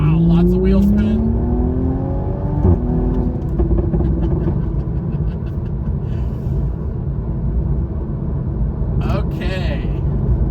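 Toyota GR Supra 3.0 launching under launch control, the engine roaring loudly as it accelerates hard with wheel spin, heard close from inside the cabin, with a person speaking over it at times.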